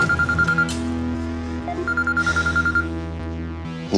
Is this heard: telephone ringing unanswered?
yes